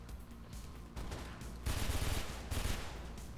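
Bursts of gunfire in the video game Mirror's Edge, fairly faint and dense, running as a sustained rattle with two stronger rapid volleys in the second half.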